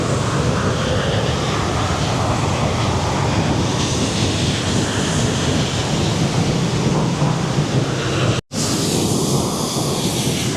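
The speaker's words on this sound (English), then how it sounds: "after the rain last night, the water is raging here at Desoto Falls" Desoto Falls on Lookout Mountain roars loudly after overnight rain, a dense, steady rush of falling water that continues without a break apart from a brief cut near the end.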